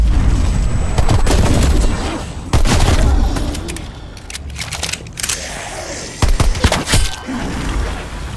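Zombies shooter game played solo: repeated sharp gunshots and booming bursts, with a heavy grenade explosion among them, loud and close in irregular clusters throughout.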